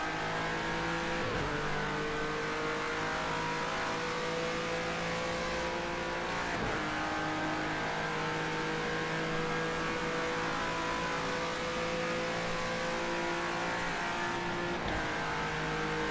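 In a racing video game, a race car engine drones at steady high revs with a few quick drops in pitch at gear changes or braking, fairly quiet, with no talking.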